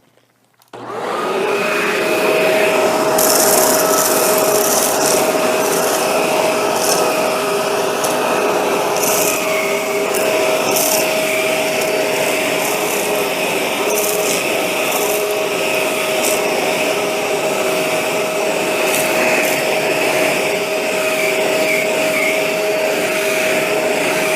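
A Shark Rotator NV752 vacuum's motorized attachment whirs steadily and loudly after switching on, with a constant hum and scrubbing, rubbing noise against carpet throughout.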